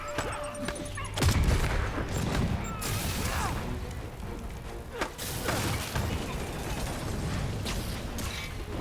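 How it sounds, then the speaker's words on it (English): Grenade blast and gunfire in Marvel's Spider-Man video game, a loud thump followed by scattered shots, impacts and mechanical clatter amid continuous action noise, with brief talk. "Tossing grenade"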